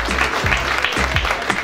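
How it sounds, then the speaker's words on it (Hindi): An audience applauds at a comedy jugtain competition ceremony: loud, dense clapping that swells in rhythmic waves, with no talk. "खुल के क्लैप करो"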